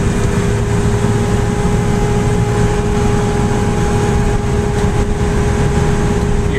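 A Datsun 240Z drives along with steady engine drone and a thin, constant differential gear whine sitting above the road noise, loud and unbroken with no talking.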